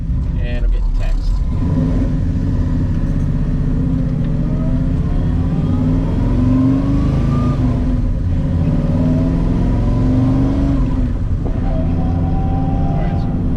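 A 1970 Chevelle fitted with an LSA engine cruises on the road, its steady engine drone and low rumble continuous throughout, rising slightly in pitch at moments as it pulls, with faint talk over the top.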